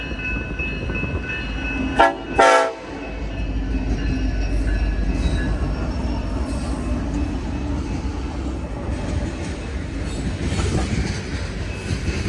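A freight train's AC locomotive horn blasts loudly twice in quick succession up close, then the heavy rumble and clatter of rolling cars carries on steadily.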